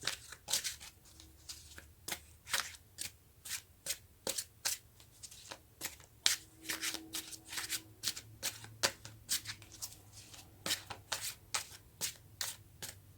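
Tarot cards being shuffled by hand in a steady run of crisp riffling snaps, close and fairly quiet, continuing for several seconds with no talking.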